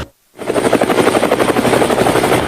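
Helicopter in flight, a loud rapid rotor chop with a steady throbbing pulse and engine drone, starting abruptly after a brief silence and continuing close and alone.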